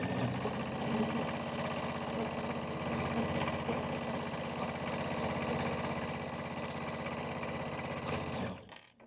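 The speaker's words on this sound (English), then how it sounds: "we can step to our machine and we're going to run a 1/4 inch seam along the top and bottom" A sewing machine stitches a quarter-inch seam along the top and bottom of a fabric casing, a steady continuous close hum and rapid needle rattle that runs for several seconds before stopping abruptly.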